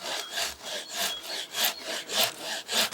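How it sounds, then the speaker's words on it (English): A hand saw cuts through a large tree branch close to the trunk in steady back-and-forth strokes, about two per second, each a raspy rubbing pull heard up close with no voices. "with the saw, you make a cut as close to the trunk where you want it to be removed as possible"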